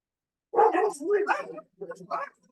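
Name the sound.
dogs barking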